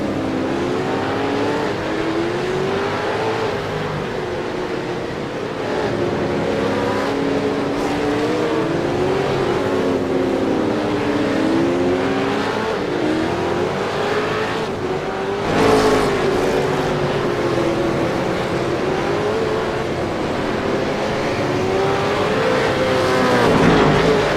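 V8 race cars racing at Winton, several engines howling together with pitch weaving up and down through gear changes, loud and continuous with no one speaking, swelling near the end.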